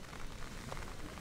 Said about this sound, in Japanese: 今雨が降ってます